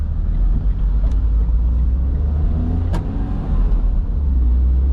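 A car in Canada pulls away from a green light on a warm day, its engine a steady close rumble inside the cabin with a couple of faint clicks and no talk.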